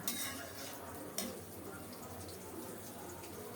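Vegetables are stirred and mixed with a spoonful of ghee in a pan, giving quiet scraping and soft clinks of a utensil against the pan, faint and low throughout with one slightly louder scrape partway.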